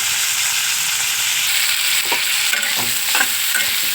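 Onions and okra fry in a pan with a loud, constant sizzling hiss close by, joined by a few scraping stirs toward the end.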